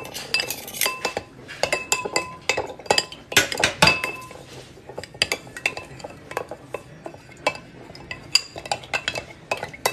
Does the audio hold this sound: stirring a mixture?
yes